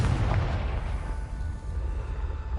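A Confringo fire-blast spell bursts in Hogwarts Legacy, opening with a loud booming explosion that decays into a long rumbling tail, with no voices.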